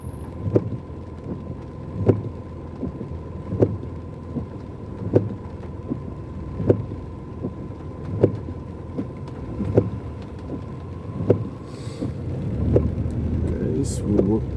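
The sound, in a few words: road traffic in the rain in Port Moresby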